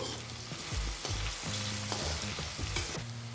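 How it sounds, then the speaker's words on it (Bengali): Chopped onion seasoned with salt and turmeric sizzles in a hot pan, with a spoon scraping and stirring in quick repeated strokes over a steady frying hiss, close and fairly loud. "এবার পেঁয়াজ কুচি সাথে নুন আর হলুদ দিয়ে এবার নাড়াচাড়া করে নিব"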